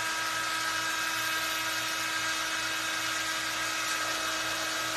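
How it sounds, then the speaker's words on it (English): A power drill runs steadily and loudly without a break while assembling a chicken-wire Christmas tree kitchen gadget, a constant high whine with no talking over it. "Excuse the drilling."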